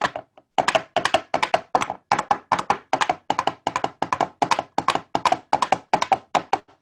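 Steady clip-clop of hollow knocks in paired beats, like coconut shells imitating trotting horse hooves, close and dry with no talking.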